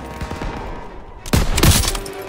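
Gunfire erupts in the Call of Duty WWII game, a quiet rumble of battle suddenly broken by a loud burst of overlapping shots near the end.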